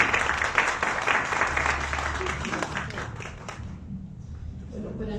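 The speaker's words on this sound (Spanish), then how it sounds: "un aplauso para Sergio por su publicación" An audience at a book presentation applauds, with dense clapping that fades out after about four seconds, while faint voices sound under it and into the quiet that follows.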